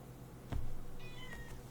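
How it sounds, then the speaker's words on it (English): A cat meows twice at moderate distance, a short call followed by a longer rising one, over a quiet room hum. "If you can hear some meowing"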